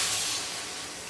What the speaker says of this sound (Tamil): நெக்ஸ்ட்டு தண்ணி சேர்த்துக்கிறேன் தேவையான அளவு